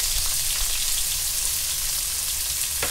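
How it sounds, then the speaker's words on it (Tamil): Bay leaves and spices splutter in hot oil with a dense, steady crackling sizzle and a low background hum, close and unbroken for a few seconds. "2 பேலீஃப் இதெல்லாம் போட்டு பொரிய விடுங்க"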